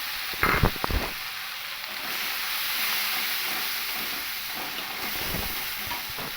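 Ginger and green chili paste hitting hot oil with Kashmiri chili powder spice mix for aloo fulkopir dalna, starting with a few sharp spatula knocks, then a continuous loud sizzle and hiss.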